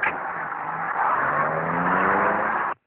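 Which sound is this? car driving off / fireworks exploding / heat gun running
car driving off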